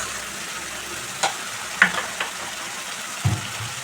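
Spice masala for a Bengali prawn malai curry sizzling and frying in a pan with a splash of water, a steady close hiss broken by a few sharp crackles and stirring knocks.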